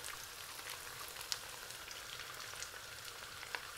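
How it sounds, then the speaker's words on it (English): Chicken fries in hot oil in a pot until golden, a soft, fairly quiet crackling sizzle with a few light pops. "Cook the meat until you see some golden edges"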